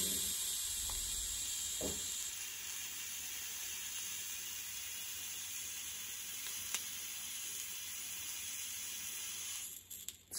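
An e-cigarette coil sizzles with a steady, close hiss while firing continuously for about ten seconds, ending with a faint click as the automatic cutoff stops it.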